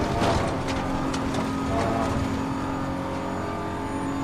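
Race car engine in the video game Assetto Corsa Competizione, a steady continuous drone with a sustained engine tone and some brief mechanical bursts early on, loud and constant with no talking.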